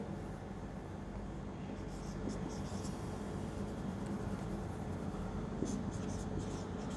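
Pen scratching steadily across paper while notes are written during a zoology class, a constant close scratchy texture over a soft background hum.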